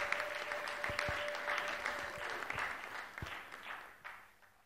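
An audience claps at an agro-industry strategy launch event. The applause is fairly soft and steady, with a few sharper individual claps and thumps, and it thins and fades toward the end.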